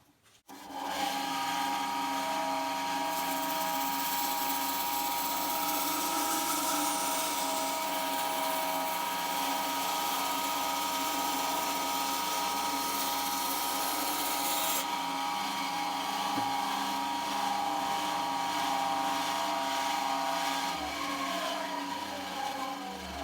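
Power tool cutting a medium-density fibreboard (MDF) board along a marked line, with a loud continuous whining drone that holds steady for over twenty seconds, close and alone with no talking.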